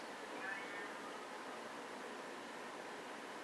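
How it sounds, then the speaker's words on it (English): A faint cat meow from outside a window rises briefly early on, distant and muffled beneath a steady, hissing background hum. "I think I hear a cat meowing outside of my window."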